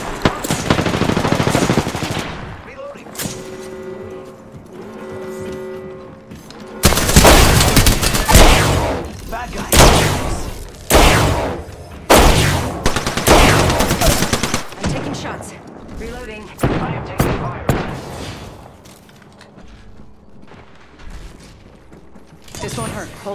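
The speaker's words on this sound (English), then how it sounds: "They're shooting at me?" Enemy gunfire in Apex Legends comes in loud bursts of rapid shots with sharp cracks, alternating with quieter stretches and mechanical clicks, close and punchy throughout.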